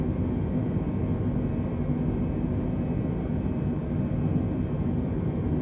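Steady, unbroken engine roar of an airliner climbing out after takeoff from Cologne/Bonn in Flight Simulator 2020, a dense even drone with no breaks and no voices.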